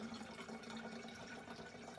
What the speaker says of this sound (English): All you have to do is pour it in your bottle.